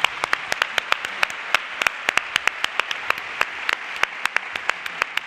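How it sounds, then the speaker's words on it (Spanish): Sparse individual handclaps at a gala event ring out in a lively irregular patter, crisp and fairly close, with no talking over them. "este fuerte aplauso para todo el equipo de Baby Radio"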